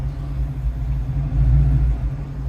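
A Fox Body Mustang idling roughly, a close, loud low rumble that wavers unevenly and swells briefly midway, with no talk over it.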